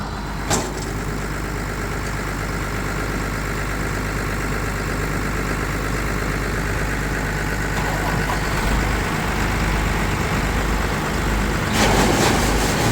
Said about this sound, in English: He has to turn on the tractor because it's attached to the auger and makes the auger move.